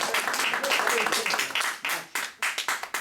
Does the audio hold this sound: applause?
yes